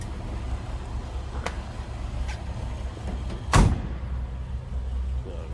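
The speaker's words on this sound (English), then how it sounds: "Nice that that door closes and fits." A door on a 1963 Chevrolet Impala SS 409 swings shut with a single solid, close thunk midway through, after faint clicks over a quiet background hum.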